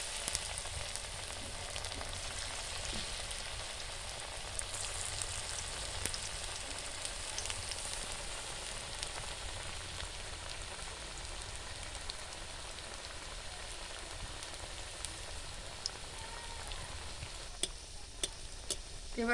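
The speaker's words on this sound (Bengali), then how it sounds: "তেল গরম হয়ে গেছে, সবগুলো ভেজে নেব" Breakfast snacks fry in hot oil, giving a steady, dense crackling sizzle that runs continuously for nearly twenty seconds, moderately quiet and close, with a few sharper ticks near the end.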